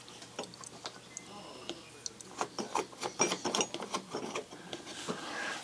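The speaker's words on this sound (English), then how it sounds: "the thumb screw simply goes in here." A thumb screw is turned into a plastic RV cover, producing a run of small ticking, ratchet-like clicks that grow louder and denser partway through, close up, with no talking.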